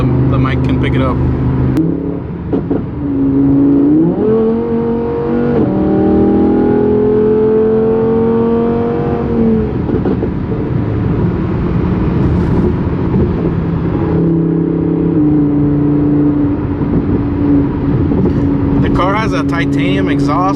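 Car with a titanium exhaust, stock headers and a retained muffler burbles and revs, the engine pitch rising and falling over a steady idle drone, close and loud, with speech heard over it.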